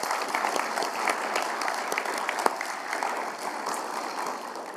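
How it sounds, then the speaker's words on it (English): Audience applause at a university leadership and service awards ceremony, a steady dense round of clapping from a large crowd in a hall, continuous and even throughout with no voices on top. "Let's give them all a round of applause"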